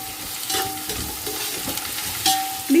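Food frying in a pan for home-style chicken biryani, a soft steady sizzle with stirring scrapes and a few clinks, close up and with no talking.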